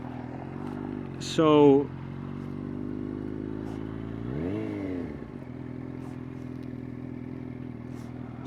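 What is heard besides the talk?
Yamaha FZ8 motorcycle riding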